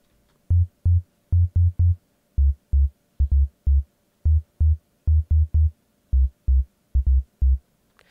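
A low synth bassline in FL Studio, dropped to F4, plays a repeating pattern of short punchy notes in pairs and triplets, steady and prominent with no voices over it.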